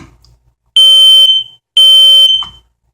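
Brand-new battery-powered smoke detector in an apartment sounding its test alarm: two loud, piercing, close electronic shrieks, each lasting about a second, separated by a brief pause.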